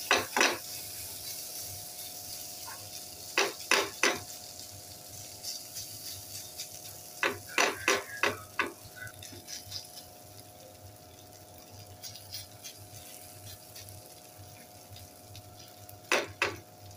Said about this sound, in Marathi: आपण हे मिश्रण आता तव्यावर ठेवूया।